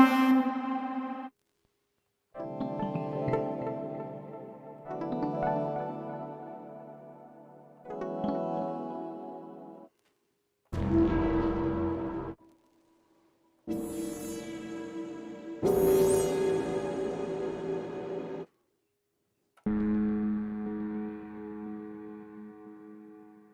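Sustained synthesized notes from the Tomofon virtual instrument app on an iPad, played one after another with delay and reverb effects, each tone ringing for a second or two before short silences.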